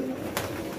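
A pigeon gives a soft, low coo, brief and faint, with a little background noise.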